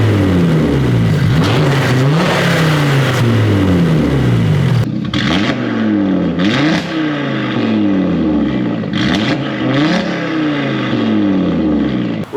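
An Audi RS3 fitted with a new TTE855 turbo revs up several times at idle, each loud rising engine roar sweeping up and falling back, close and without speech.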